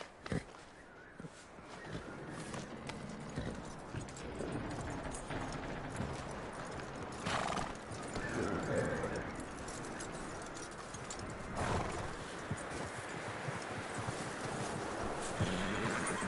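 A horse in the Red Dead video game clip-clops steadily on hooves and lets out whinnies, with faint bird calls in the background and no talking.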